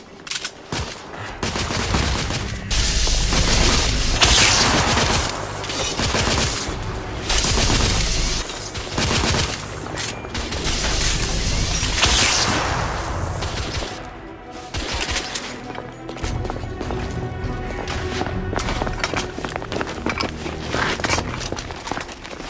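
Heavy gunfire in The Order: 1886, with rapid bursts of automatic fire and repeated shots crackling loudly throughout, mixed with clattering impacts and mechanical noises.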